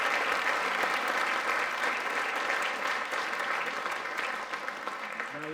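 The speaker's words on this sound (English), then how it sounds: "please give Aaron a big round of applause for everything he's been able to talk about" A roomful of people at an annual community meeting claps warmly for a speaker, a thick, continuous burst of applause that holds strong and eases slightly toward the end.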